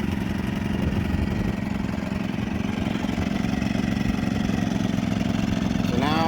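A Champion 2000-watt portable generator engine runs steadily at a warm-up idle, a constant close mechanical drone with no voices.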